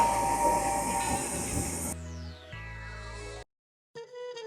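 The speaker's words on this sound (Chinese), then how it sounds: "还有那个火车的声音哎" A train ride attraction at the Harry Potter studio in Tokyo rumbles and hisses loudly at first, then gives way to quieter mechanical whirring and tones before a short silence and a faint resumption.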